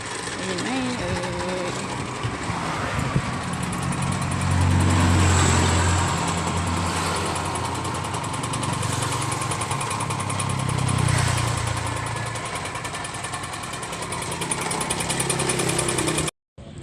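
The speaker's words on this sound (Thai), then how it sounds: "เดี๋ยวเราทำการแว็กไล่ลมกันค่ะ" A vacuum pump runs continuously while evacuating the air conditioning system of an Isuzu D-Max, a steady motor drone with slight swells, loud and close, then cutting off near the end.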